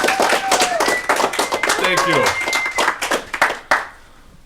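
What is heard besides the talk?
audience applause for improv player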